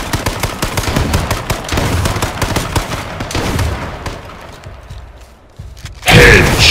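Rapid automatic gunfire in the H1Z1 Battle Royale shooter game, sustained loud bursts that thin out and fade, followed by a sudden heavy blast near the end.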